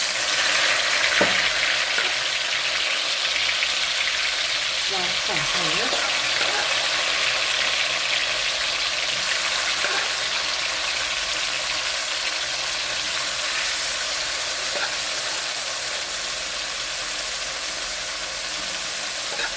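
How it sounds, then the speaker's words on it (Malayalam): Continuous loud sizzle of boiled jackfruit frying in hot oil, steady throughout with occasional faint clinks and stirring. "ഇനി നമ്മുടെ ചക്ക വേണ്ട പുഴുങ്ങിയത് നമുക്കിതൊന്ന് വറുത്ത് പോരാം"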